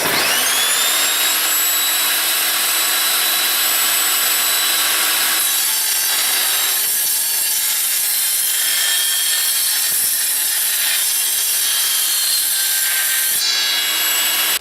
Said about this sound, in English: I'm just going to go for a straight cut just to demonstrate it cutting the uni strut.